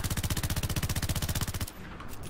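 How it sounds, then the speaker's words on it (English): Automatic blaster fire from a Star Wars Battlefront gun: a rapid, evenly spaced stream of about twenty-five sharp shots, loud and steady, stopping abruptly and leaving a faint ambient tail. "when you hold down for automatic fire"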